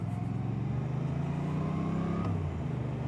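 A 2024 Suzuki GSX-8S motorcycle on a highway ride to work, with a steady engine drone and wind rush, moderately loud and continuous, with a slight pitch shift near the end.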